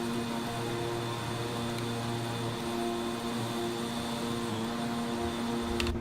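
A cruising airliner's engines drone in a steady, even hum with a faint propeller-like tonal whine, constant and unchanging in loudness, with a couple of small clicks near the end.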